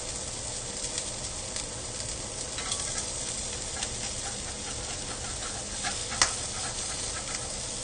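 A thin burger patty with tomato fries in a hot pan, crackling steadily and spattering across the whole stretch, with a sharp pop near the end and no talking.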